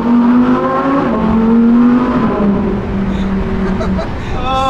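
A car engine revs hard and close, its steady tone stepping down and climbing again through several quick gear changes of a sequential race-style gearbox, loud throughout.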